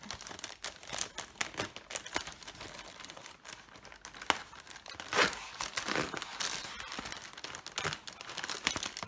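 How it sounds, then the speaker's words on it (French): Package wrapped in bubble wrap being unwrapped and torn open, with close, busy crinkling and crackling of plastic, some sharp tearing bursts and scattered clicks throughout, steady and fairly loud without talk. "Très bien emballé dans du papier bulle."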